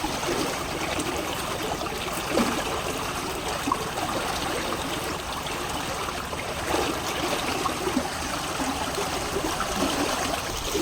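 Water flowing steadily out through a fishing net staked in a tidal enclosure at night, a continuous broadband trickling and gurgling rush heard close and even throughout, with no voices.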